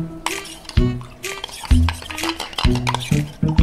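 A spoon stirring one and a half spoonfuls of powder into water: repeated rapid clinking scrapes against the vessel in short bursts, close and fairly loud, with no talk.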